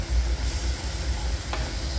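Poppy seeds fry in a pan with salt and turmeric, giving a steady close sizzle with soft scraping from stirring for about two seconds. No one speaks.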